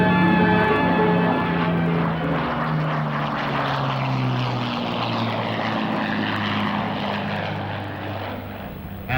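An airplane takes off on its first flight with a loud, close, sustained engine drone. Steady tones in the drone slide gradually lower as the aircraft pulls away, and no voices are heard.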